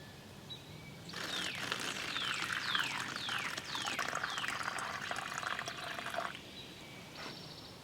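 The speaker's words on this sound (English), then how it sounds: "I'll take this platypus, and what I do is I fill it partly full of water." Water pours steadily into a soft Platypus bottle for about five seconds, a close, even trickling gurgle with a few rising tones as it fills, outdoors in the field.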